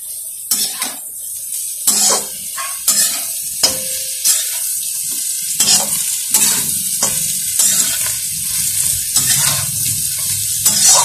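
Roasted peanuts and other food fry in a pan while a utensil stirs and scrapes them repeatedly, giving sharp, close clinks and scrapes over a constant hiss of sizzling oil.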